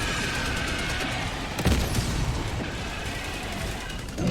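An artillery barrage in a video game rumbles as a dense, continuous wash of distant explosions, with one louder nearby blast standing out midway, no talk over it.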